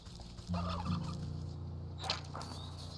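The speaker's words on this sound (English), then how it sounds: "Ooh, turkey." A turkey in the video game Wytchwood gobbles once in a rapid warbling burst over a steady low hum, followed by faint clicks and taps of game sound.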